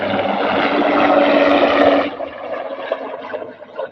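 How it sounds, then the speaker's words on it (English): Loud broadband whooshing roar of a helicopter flying overhead, steady and close for about two seconds, then dropping abruptly to a fainter, fluttering rumble as it moves away. "Sorry about the helicopter."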